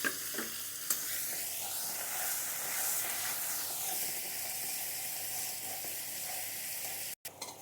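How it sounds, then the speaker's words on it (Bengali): New potatoes, boiled and peeled, fry in hot oil with a steady, close hiss and sizzle that holds for the whole stretch, broken by a brief stir near the start and a short gap toward the end. "আলুগুলো একটু ভেজে নেব"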